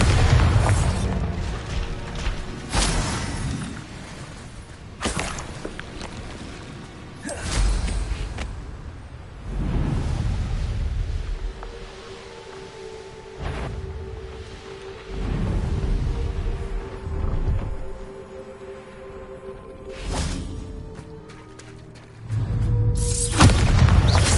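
Bombarda spell blasts from Hogwarts Legacy boom heavily again and again. Deep, loud explosions recur every few seconds with rumbling tails over game sound.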